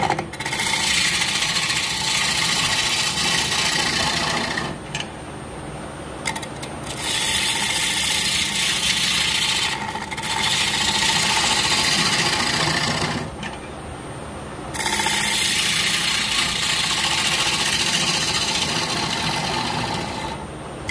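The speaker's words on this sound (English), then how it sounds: "put this back on the lathe, turn it around, and put a chisel in it" Wood lathe spinning a laminated wooden bowl while a chisel cuts it, a steady raspy scraping and rumble that stops and restarts several times across the clip, loud and close with no talking.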